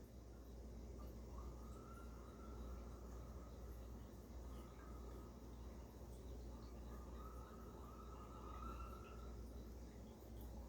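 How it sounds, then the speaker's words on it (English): Faint emergency sirens wail in two rising-and-falling passes somewhere outside in New York City, far off beneath a steady low city rumble. "sirens"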